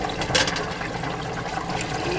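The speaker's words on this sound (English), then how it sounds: "we're going to slowly pour in the beef stock, stirring as we go" Beef stock poured slowly into a pan for Salisbury steak gravy while it is stirred, giving a steady close liquid wash and splash with a brief louder splash near the start.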